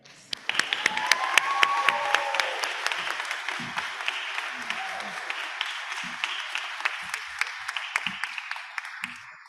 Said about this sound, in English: give yourself a big applause because you deserve it